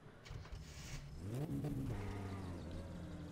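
Simulated car engine with carburetion trouble in the game My Summer Car, rising from a low idle into an uneven rev with wavering harmonic pitch, loud and close, with no talking.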